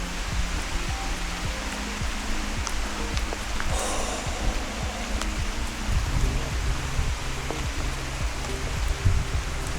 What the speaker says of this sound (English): this rain is just going through me.